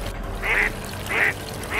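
Ducklings quacking as a story sound effect, two clear nasal quacks about a second apart and a third starting at the end, close and fairly loud, with no speech.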